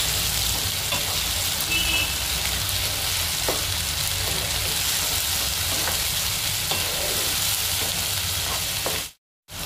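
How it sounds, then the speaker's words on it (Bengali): A steady, loud sizzle of onions frying in a hot pan, with occasional scrapes from stirring, runs throughout before cutting off near the end. "এইদিকেও পেঁয়াজটা মোটামুটি ভাজা হয়ে এসেছে"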